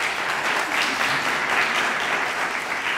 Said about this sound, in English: Real quick, big round of applause for Jennifer and her committee.